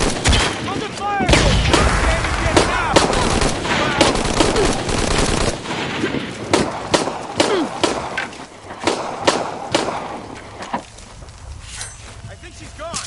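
Rapid bursts of automatic gunfire and single shots crack through a firefight in Shadow of the Tomb Raider, loud and close, thinning out toward the end while voices shout over the shooting.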